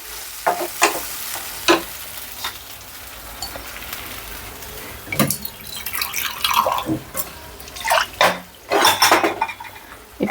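Tomato puree with a spoonful of sauce fries in a pan for pasta, giving a steady close sizzle broken by repeated scraping stirs and soft clinks of the spoon against the pan.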